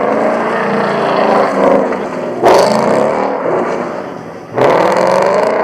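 A Ford Mustang with a loud exhaust accelerates hard at a Mustang meet, roaring close by with two sharp surges of revving as it pulls away and gear changes punctuate the rising engine note.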